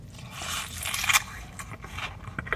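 Someone bites into a smoky barbecue chicken sandwich with a crunchy fried chicken fillet, giving a few close, crackling crunch bursts followed by quieter chewing, with no talk.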